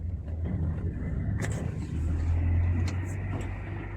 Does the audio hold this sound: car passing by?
yes